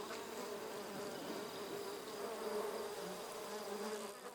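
Honeybees inside a hive, fanning the entrance with their wings to ventilate it, make a steady, dense, close buzzing drone that holds with little change from start to finish.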